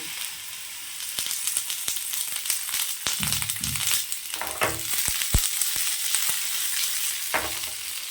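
Chopped onion and a tomato sauté in a little oil for a potato, green pea and cauliflower kuzhambu, with a steady close sizzle and frequent sharp scraping and stirring clatters, no voices.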